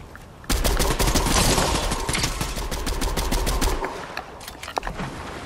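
Rapid bursts of automatic gunfire in Fortnite Chapter 4 Season 3 during a duos match, a dense loud volley lasting several seconds before thinning to scattered shots.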